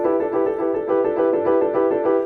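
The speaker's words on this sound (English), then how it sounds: "It sounds like a harmonica being blown in and out." A reedy orchestral figure from Stravinsky pulses back and forth like an accordion or harmonica breathing in and out, a steady swelling rhythm without voices.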